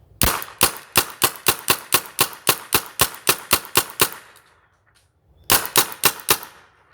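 A Kingman Spyder Aggressor XT paintball marker fires a rapid, evenly spaced string of about a dozen sharp pops, then falls silent briefly before a second burst of five more shots, loud and close.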